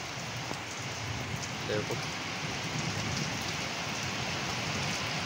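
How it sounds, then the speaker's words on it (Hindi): Steady, heavy rain pours onto a terrace garden, a dense continuous hiss of drops on plants and hard surfaces, with a voice briefly speaking over it. "ये देखो इधर से आई है बारिश"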